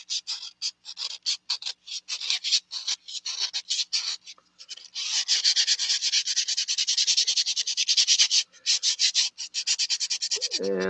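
Sandpaper rasps by hand over a carved wooden duck decoy in quick, close, rhythmic strokes, pausing briefly, then resuming in a denser, steadier scrubbing run with no talking.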